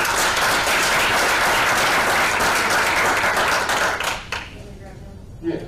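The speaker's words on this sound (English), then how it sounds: "Let's give them a round of applause." Sustained audience applause at a school board meeting, loud dense clapping from a crowd that fades near the end as voices come through.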